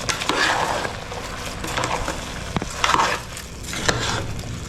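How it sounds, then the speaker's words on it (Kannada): Soybean vegetable pulao ingredients are stirred and mixed in a pot, with a spoon scraping and knocking against the metal in irregular clinks over a soft continuous rustle. "ಇವಾಗ ಇದಿಷ್ಟು ಹಾಕಿ ಮಿಕ್ಸ್ ಮಾಡೋಣ"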